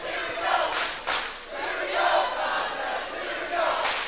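A crowd and student sections roar and cheer at a Class A high school volleyball match between Hill City and Sioux Valley, a loud continuous wall of cheering with surging shouts across the whole stretch.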